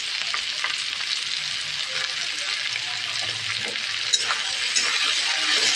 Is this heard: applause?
no